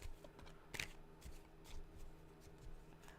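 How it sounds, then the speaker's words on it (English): Quiet tarot card shuffling with a brief riffle burst near the start, then soft sliding and handling noises continuing close by, no talking. "I'm shuffling the cards and I'm thinking about you"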